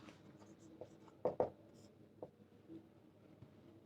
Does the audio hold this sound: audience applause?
no